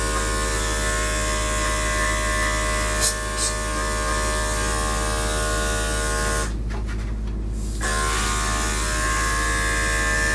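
Electric dog clippers fitted with a 7 blade trimming a Yorkie's face, giving a steady close mechanical buzz that holds throughout with one brief dip, while people talk quietly over it.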